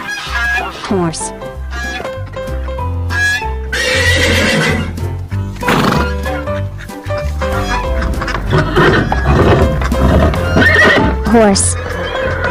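A farm horse neighs and whinnies in several loud, shrill bursts against a busy backdrop of music and voices, with other farmyard sounds mixed in.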